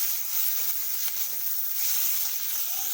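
Fish fat is stirred and fried in a pan for a Bengali chatpati, making a soft, even sizzling hiss up close with faint scraping of stirring and no voices.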